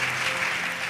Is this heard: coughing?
no